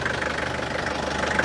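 A Nissan Urvan van engine idles with an even, continuous rumble and faint knocking, heard close up with no talk.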